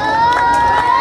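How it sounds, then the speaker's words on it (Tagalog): An audience at a gay beauty pageant cheers and shouts in a loud, sustained burst of crowd noise with steady tonal sounds running underneath. "Ba't di natin sabay-sabay palakpakan at hiyaw-hiyawan si Binibining Angel Locsin"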